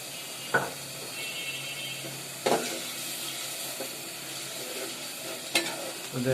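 Eggplant frying in oil in a home kitchen gives a steady crackling sizzle, broken by three sharp clinks of a utensil against the pan, with no talking.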